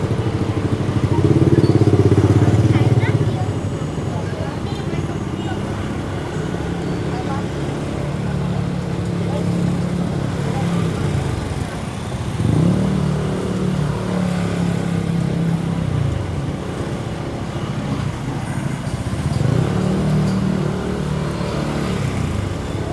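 A motorcycle rides through busy traffic in the Philippines, its engine droning loud and near with repeated rises in revs, under steady road and wind noise as a rider talks.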